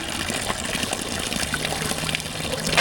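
Mineral spring water from a mountain spot near Sedona, Arizona, pours and gushes steadily into a water jug, a close, continuous splashing flow with no talk.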